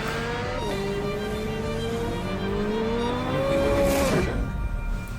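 A 2023 Corvette Z06 engine runs loud and close while being parked, its revs climbing and falling in steady sustained tones, with a sharper rise and tire noise near the end.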